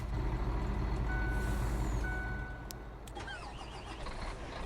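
A Volvo truck reversing in Farming Simulator gives regular high backup beeps over a loud, steady diesel engine rumble that eases off partway through, with no talking.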